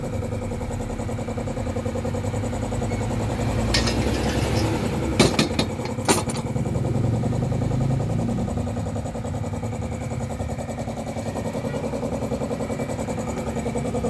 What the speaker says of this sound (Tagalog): 4D56 engine.